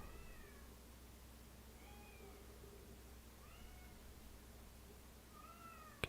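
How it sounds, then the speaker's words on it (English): A pet cat meows repeatedly, four or five drawn-out, distressed cries spaced a second or so apart, fairly faint against a steady low hum. "Can you guys hear my cat freaking out?"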